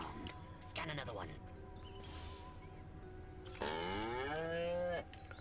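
Cows moo loudly in a video game, with two drawn-out, harmonic bellows near and prominent. Game characters talk between and over them.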